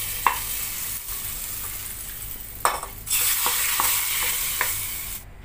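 Curry leaves and chillies crackle and sizzle in hot oil as a tadka poured into a pudalangai paruppu koottu, with a steady hiss, sharp pops and a louder burst of frying near the middle, no voices.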